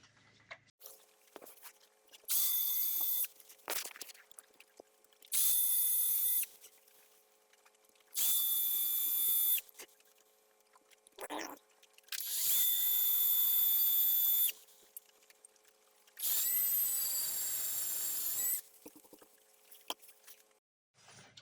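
Power drill boring 1.5mm pilot holes about 10mm deep into wood on a guitar build, heard as five separate loud, whining bursts of a few seconds each, with quiet handling pauses between them.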